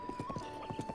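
Horse hooves clip-clop in a quick, steady rhythm with a brief whinny mixed in, from a horse in the video game The Legend of Zelda: Breath of the Wild, fairly close and clear with no talking.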